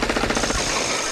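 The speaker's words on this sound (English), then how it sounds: "Instead, there's a lot of gunfire." A rapid burst of automatic gunfire, evenly spaced shots rattling for about half a second before fading into a reverberant tail.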